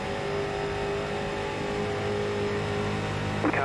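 Street stock race car engine at Auto Club Speedway in the iRacing game: a sustained, steady buzzing engine drone with harmonic whine at constant speed, holding on without a break.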